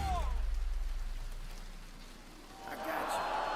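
Rain in a video game trailer shown at Gamescom: a steady, soft patter of rain beneath a brief voice at the start, swelling into louder hiss near the end.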